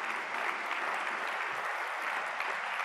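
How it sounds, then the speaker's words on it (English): A conference audience applauds the organizers at the Eclipse community event ECE 2019, a sustained, even wash of many hands clapping in a large hall, with no talk over it. "please, a round of applause for the folks who did so much work for this."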